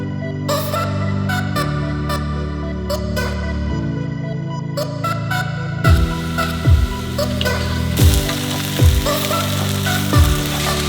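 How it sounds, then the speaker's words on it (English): Tofu sizzles and fries in a pan at a campsite cookout in the Wyoming wilderness, with a steady crackling hiss throughout, close by, and a few sharp metallic clinks and scrapes in the second half. "we kind of fry up the tofu"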